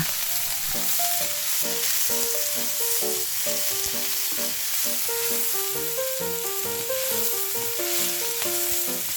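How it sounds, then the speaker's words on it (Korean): Vegetables stir-fry in a hot pan for mapo tofu, giving a steady, close sizzle that runs without pause while a melodic tune plays underneath. "그리고 야채류를 넣어 볶아주시면 됩니다."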